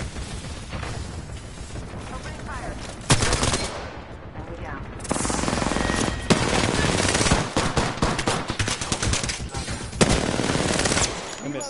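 Sustained automatic gunfire in a first-person shooter, dense rapid bursts with a few louder cracks, loud and close almost throughout, with a brief lull partway.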